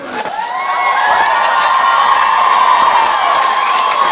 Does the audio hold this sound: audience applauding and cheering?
yes